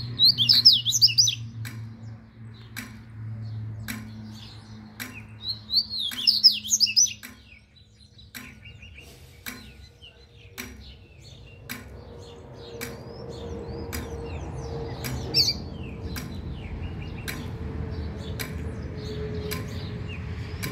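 Caged songbird, such as a coleiro or papa-capim, singing short bright chirping phrases at intervals over sharp regular ticking, with faint low background rumble and no talk.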